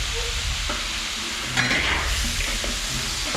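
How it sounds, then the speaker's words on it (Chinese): Food stir-fries in a wok at home, with a steady close sizzle and crackle and occasional scrapes of the spatula, carrying on without any talking. "再炒一会儿"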